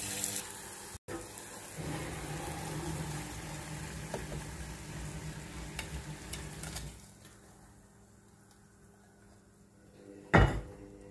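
Hot tadka tempering being poured and stirred into boiled sambar in a home kitchen, a steady sizzling hiss that fades out partway through, followed by a quieter stretch and a short sharp clatter near the end.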